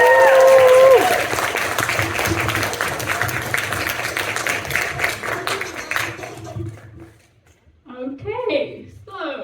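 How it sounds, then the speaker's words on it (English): Applause and scattered cheers from an open-mic stand-up comedy audience, dense clapping that rolls for several seconds under a voice before fading out, followed by the next speaker talking. "if this time everyone could just start clapping and cheering all at the same time"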